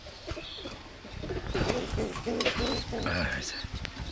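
Imported fancy pigeons sitting on eggs coo in soft, repeated throaty calls, mixed with a person talking nearby over a busy background.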